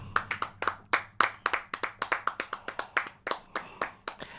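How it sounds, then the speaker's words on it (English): A short round of clapping from a pair of podcast hosts, about twenty quick sharp claps in an even rhythm, close and clear with no talk over them. "Let's get a round of applause for that."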